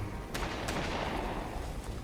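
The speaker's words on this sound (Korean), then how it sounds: "어디서 총소리가 났는데" A few sharp gunshots from the Tomb Raider reboot video game ring out over a steady background rumble, spaced irregularly across roughly two seconds, with no talking.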